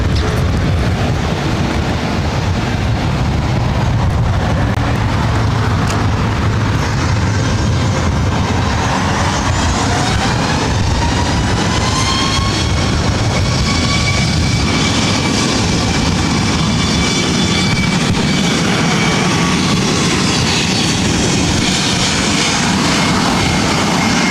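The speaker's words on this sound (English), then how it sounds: "This is WestJet 1315 taking off to Winnipeg on a MAX 8." A WestJet Boeing 737 MAX 8 takes off at LAX, its jet engines roaring loud and continuous for the whole stretch, with a rising whine that shifts in pitch as the plane rolls and climbs.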